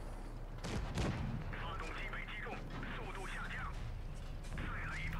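Tank cannon fire in the mobile game World of Tanks Blitz, from a 59 Patton match: a couple of heavy booms early and another near the end, with a player talking excitedly over the battle noise.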